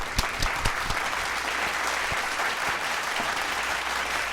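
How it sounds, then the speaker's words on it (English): A final round of audience applause at a university education pinning ceremony, full and sustained across the room, with a few sharper nearby claps standing out at the start. "let's give the program committee and all of you all one final round of applause."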